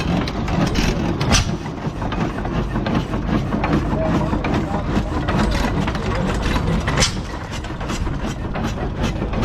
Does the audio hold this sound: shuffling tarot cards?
no